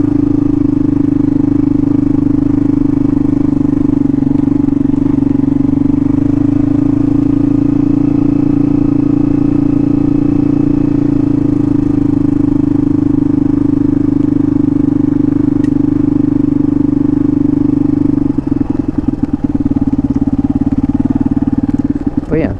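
An adventure motorcycle rides a gravel dirt road, its engine holding a loud, steady drone throughout with light clatter and a brief rougher patch near the end.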